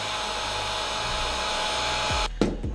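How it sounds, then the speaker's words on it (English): Heat gun warming part A of an epoxy resin in a cup, a loud steady blowing hiss that cuts off abruptly near the end, followed by a few handling knocks. "if you pour your part A into your cup, you could then slowly use a heat gun to warm your epoxy"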